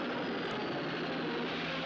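A real helicopter flies in a scene from Richard Donner's Superman, a loud, continuous rotor and engine roar that fills the whole moment without a break.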